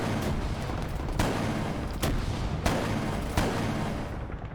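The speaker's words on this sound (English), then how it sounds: "Some gunfire pretty close, but I can't actually see where any of it's coming from." Several sharp gunshots crack over a dense rumbling background of battle noise in the video game Arma 3, spaced about a second apart, with no one talking.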